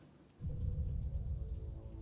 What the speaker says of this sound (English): Rain not stopping, huh?